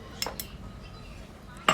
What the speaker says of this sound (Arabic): ده بقى كده هنحط كمان معلقتين صلصة